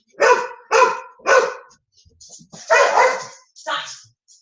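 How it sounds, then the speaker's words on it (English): Dogs on the verge of fighting bark loudly and close in a quick series of sharp barks, a short pause with faint whimpers, then more heavy barking and a final bark. "Let me deal with my dogs because they're about to fight."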